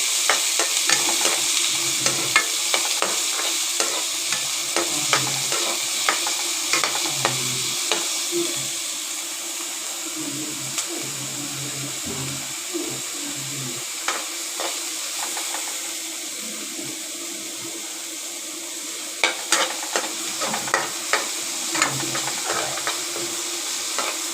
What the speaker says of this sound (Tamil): நல்லா வதக்கி வச்சுக்கலாம்.